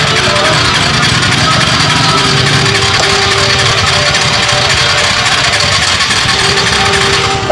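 A Yamaha Mio i 125 scooter with low compression runs after being restarted, its engine sending out a loud, steady, rough close-up drone that lasts the whole time, with a faint voice underneath.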